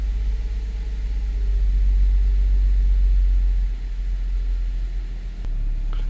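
A supercharged 2013 Audi Q7 3.0T with a misfire and oil mixing into the coolant idles nearby, a steady low engine rumble that dips slightly partway through, with no talk over it.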